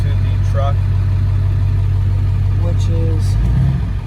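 Ford Super Duty truck engine idling nearby, a loud steady low rumble holding even for several seconds, with a slight change in tone near the end.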